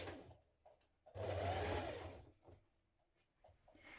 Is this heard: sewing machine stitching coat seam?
yes